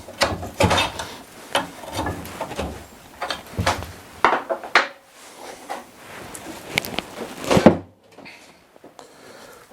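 A rusty brake caliper with its pads still in, prised off a Mazda RX-7 during a teardown, heard as close scraping, clunking metal knocks and creaks in irregular bursts, ending in a quieter pause.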